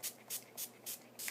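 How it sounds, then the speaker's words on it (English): Redken Hot Sets 22 hair spray hisses from the can onto a section of hair in five short, evenly spaced bursts, close and quiet, with no talk. "I take that section and I give it a good spray."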